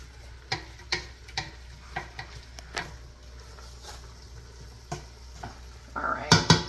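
A spoon stirs Kinder's beef stew in a pot, giving a series of distinct clacks and scrapes against the metal at an uneven pace, followed by louder, busier clattering at the end; a faint voice is heard briefly.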